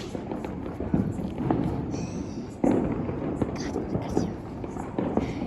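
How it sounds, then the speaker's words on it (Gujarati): Diwali firecrackers burst repeatedly, with sharp cracks and one louder bang amid steady crackling and popping, a festive outdoor din with voices murmuring underneath. "છોકરાને વારે ફટાકડા ફૂટી રહ્યા છે"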